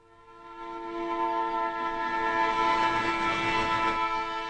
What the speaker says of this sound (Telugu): ఇప్పుడు ఒకటే గూడ్స్ ఉందిరా, అది కూడా వచ్చే టైం అయింది